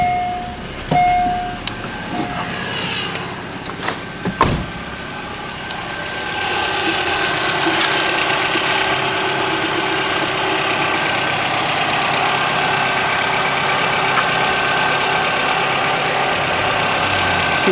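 A Chevrolet Kalos/Aveo engine cranks and starts after a timing belt replacement, then settles into a steady, loud idle that stays close and even. A few clicks and clunks come first.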